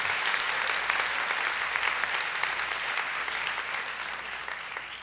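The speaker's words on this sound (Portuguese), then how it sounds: "Alguém quis aplaudir, aí pode aplaudir" Steady applause from a crowd, a dense wash of many hands clapping at once, sustained throughout without voices.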